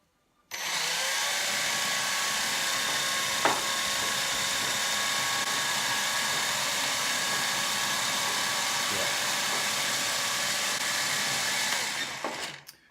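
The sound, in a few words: SYMA X8 quadcopter drone motors spinning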